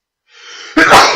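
A single sharp sneeze, preceded by a brief breathy intake, close and loud.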